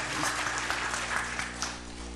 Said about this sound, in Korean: 내일 저녁도 마음껏 쏟아달라고 우리 박수 한번 크게.